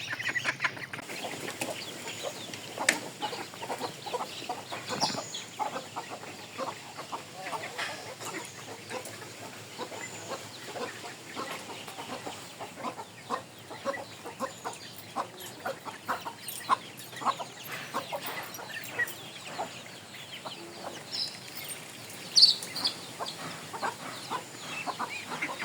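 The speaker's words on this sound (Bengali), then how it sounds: "দেখেন এই যে মুরগিটা ছেড়ে দিলাম" Chickens on a small farm cluck and call in scattered bursts over a steady soft background, with louder calls standing out now and then, most sharply near the end.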